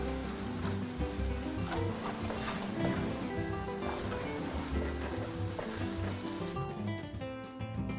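Onions fry in a pan for salmon-head miso sinigang, making a dense, steady sizzle close by with faint clatter underneath that fades toward the end.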